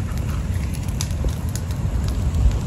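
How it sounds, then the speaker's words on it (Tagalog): A beach bonfire on Boracay burns with steady crackling and a low rushing roar, scattered pops rising over constant wind noise close to the microphone. "Grabing apoy niya oh."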